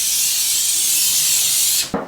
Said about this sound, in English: What I'm going to do now is spray my bucket with a bit of cooking spray.